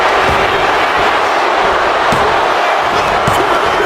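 A packed capacity crowd at a wrestling match cheers and roars without pause, loud and dense throughout, with a few thumps from the ring under the noise.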